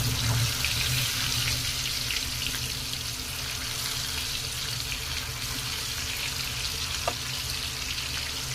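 Chicken 65 pieces deep frying in hot oil at road-side style, giving a steady, dense bubbling hiss that runs continuously and close with no talk.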